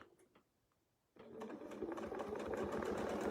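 A sewing machine starts up and stitches steadily while quilting with a template, a close, loud, continuous mechanical whir after a brief quiet moment, with no talking.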